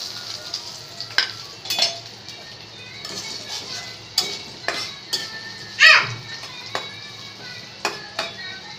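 Panch phoron spices frying in hot oil, added after dried chillies, produce a low steady sizzle while a spoon repeatedly clinks and scrapes against the pan in short, irregular taps, close up.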